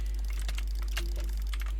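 Rapid keyboard and mouse clicking during a fast-paced online duels game, a dense run of close, sharp clicks and taps over a steady low hum.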